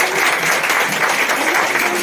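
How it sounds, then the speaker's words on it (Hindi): Audience applause at a Hindi-language women's political rally, a steady dense wash of clapping filling the whole short stretch with no pauses. "तालियां हल्की बढ़ गई हैं"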